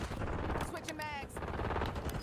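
Gunfire in the video game Warzone, a rapid burst of shots crackling through a dense, noisy battle mix with a voice talking over it.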